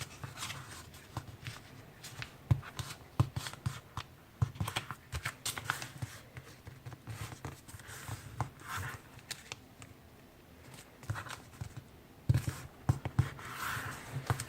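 A sheet of paper being folded into a paper airplane: soft crinkles, creases and light scraping strokes that come in irregular bursts, quiet and close.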